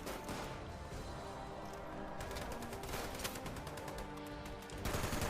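Dense, continuous video game gunfire in a roleplay military squad game, a loud sustained barrage of rapid shots and bursts filling the whole stretch with no clear talk.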